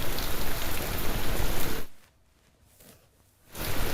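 Heavy monsoon rain pours down in Ranebennur, Karnataka, a dense, loud hiss of downpour that cuts to near quiet for over a second before the roar of rain returns.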